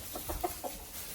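A breeding pen of Brahma chickens, five hens and one rooster, gives a few soft, short clucks in quick succession, faint and close, with a quiet background and no talking.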